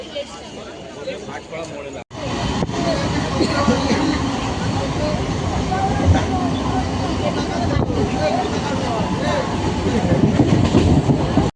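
A train pulls into a station on a trip to Kanchrapara, a steady loud rumble and clattering wheels that fill the scene after a brief cut, with the din of the platform blended into it.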